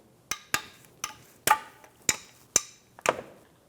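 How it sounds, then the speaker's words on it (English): Sharp metallic cracks from a 10mm socket breaking oil pan bolts loose on a 1998-2010 Volkswagen Beetle, seven distinct knocks spaced roughly every half second, close and fairly loud. "take out the rest of the bolts using a 10mm socket"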